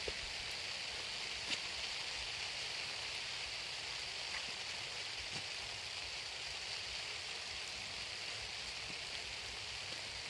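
Steady rain falls over a long bean crop field, a soft, even hiss of drops with occasional faint ticks, constant and low in level, no voices.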